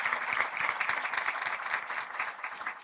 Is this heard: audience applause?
yes